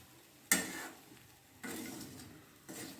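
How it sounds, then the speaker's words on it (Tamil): A spoon stirs green moong sundal with grated coconut in a pan in three distinct scraping strokes: a sharp first scrape, then two softer, rustling sweeps, all close and otherwise quiet. "இப்போ இந்த தேங்காய் போட்டதும் நல்லா மிக்ஸ் பண்ணி விட்டுடணும்."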